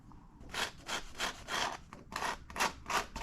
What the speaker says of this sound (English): I'm just scuffing it a little bit, trying to get the paint out of the way